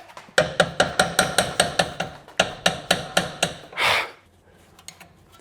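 Hammer blows striking a sway bar link on a BMW E46 330i, two fast rhythmic bursts of about a dozen sharp metallic hits each, loud and close, followed by a brief hissing spray.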